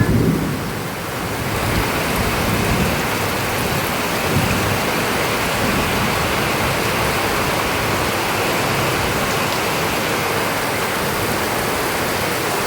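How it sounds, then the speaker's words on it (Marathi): Heavy rain pours down steadily in Konkan with a loud, dense roar, and gusty cold wind sweeps through throughout. "पाऊस इल्ला काय थंडगार वारा सुरू झाला."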